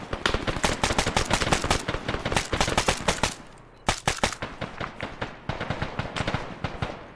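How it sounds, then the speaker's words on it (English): Rapid automatic gunfire from the military video game Arma: dense, loud bursts of shots rattle without pause, stop briefly, then a few single cracks lead into more sustained firing. "Oh shit, I almost shot Turtle."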